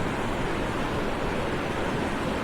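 Sea waves wash over bare feet at Versova Beach at night, a steady broadband rush of surf and surge close by, continuous with no break and no voices.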